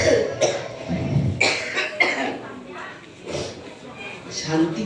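A man reading Bhagavata scripture aloud coughs repeatedly, several rough bursts breaking up his speech at close range.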